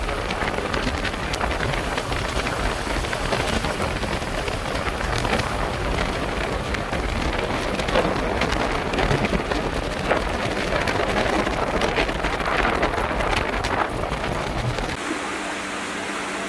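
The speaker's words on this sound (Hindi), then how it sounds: "अभी बारिश हो रही है" Rain pours steadily through a dense forest, a loud, unbroken hiss and patter that holds for most of the stretch before dropping abruptly to a softer background near the end.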